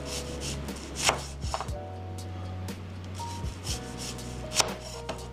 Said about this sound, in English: I might as well chop it now